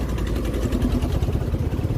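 A motorcycle engine putters steadily while riding, a close, low, pulsing drone with a fast regular rhythm.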